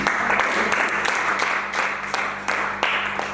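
A church congregation clapping together in a worship service, a steady wash of applause with sharper bursts of claps, continuing throughout with faint voices mixed in.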